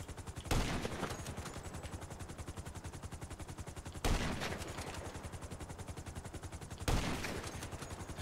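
Gunfire in GTA V comes as rapid, sustained machine-gun bursts, with three louder blasts marking the start of each long burst of even, fast shots.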